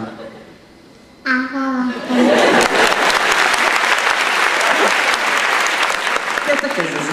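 Audience applause with scattered chuckles at a children's wish-granting event in Haifa, starting suddenly after a quiet moment and then swelling into loud, sustained clapping that continues to the end.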